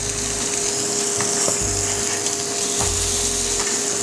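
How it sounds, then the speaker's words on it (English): Swordfish sears in a hot buttered pan with a steady, close sizzle and crackle. A faint low clatter sounds now and then over a constant background hum. "I'm just going to let this sear just a couple more minutes, and then I'm going to flip it over"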